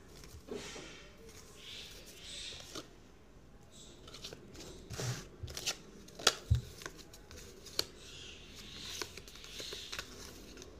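A deck of cards handled and shuffled through while hunting for one card, soft riffles and flicks with a few sharper snaps, close and fairly quiet with no talk.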